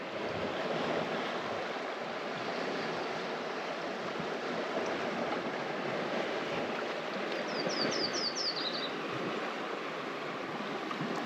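River water rushing steadily around a bend near Ross Lake, close to Hope, BC: a constant broad wash of flow, with a brief bird chirp partway through and no talking.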